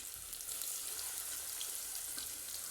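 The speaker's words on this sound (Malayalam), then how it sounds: "അതിലേക്ക് മീനിട്ട് വറുത്ത് കോരിയെടുക്കുകയാണേ." Fish frying in coconut oil over a wood-fired stove, being made into fish pickle, gives a steady, close sizzling hiss that holds at an even level throughout with no voices.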